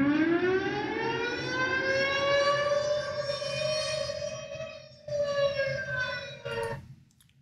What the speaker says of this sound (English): Let's listen to Air Raid.